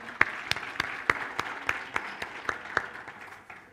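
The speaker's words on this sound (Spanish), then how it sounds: "Así que también un gran aplauso." A small audience claps at a panel event on data protection, with sparse, uneven handclaps that are moderately close and thin out toward the end, with no talk over them.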